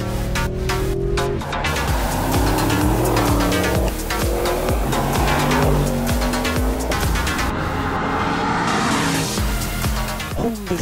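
A 4x4 car drives hard on the wet Zolder race circuit, its engine loud and continuous with rising and falling revs and brief tyre noise, close up with no talk.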